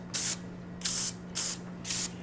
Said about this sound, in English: I always spray my cupcake papers with a little bit of